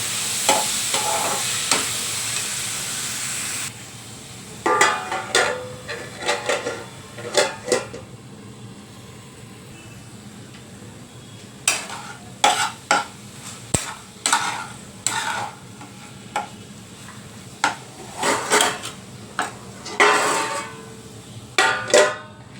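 Finely chopped fenugreek greens (methi bhaji) being stirred in a pan, irregular bursts of spatula scraping and clanking against the pan over a quiet, faint sizzle, with pauses between strokes.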